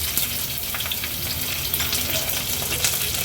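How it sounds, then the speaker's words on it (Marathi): Oil sizzles loudly and continuously as crushed garlic cloves and green chilies fry in a pan, with crackling pops scattered throughout. "त्या थोड्याशा परतून घ्यायच्या तेलावर लसणाच्या पाकळ्या आणि मिरच्या"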